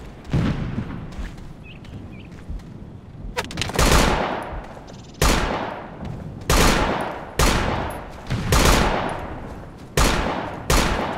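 Repeated bursts of gunfire in the military shooter Operation Flashpoint: Dragon Rising, sharp loud reports and short volleys recurring every second or so, some close and others more distant, with no talking.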